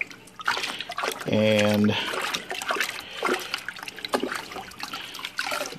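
Water trickles and splashes as aquarium canister filter media is rinsed in tank water, with someone talking over the dripping and sloshing, plus a short tonal hum in the middle.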